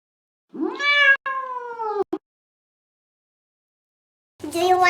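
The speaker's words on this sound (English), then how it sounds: "cat." A domestic cat meows up close in a long, drawn-out call, then breaks into a second meow a few seconds later after a pause of silence.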